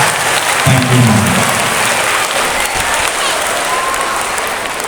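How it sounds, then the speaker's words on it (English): Loud, sustained audience applause at a school's last academic program of the year, a dense continuous roar of many hands clapping that holds steady for the whole stretch with only a brief voice underneath. "Let's all give Ma'am Devaki a big round of applause for all the good that she has done for all of us."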